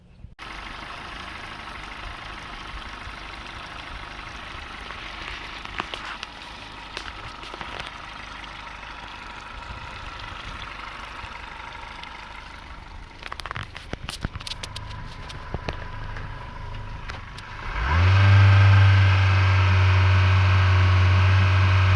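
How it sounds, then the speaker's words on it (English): A Yamaha outboard motor that had a fuel pump failure and stalling trouble is run in a test barrel, first with a steady low idle and crackling bursts, then rising into a loud, even, sustained engine drone. "Ran the motor in the test barrel here for a few minutes."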